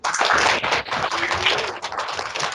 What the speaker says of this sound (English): Let's get a big round of applause for Emily.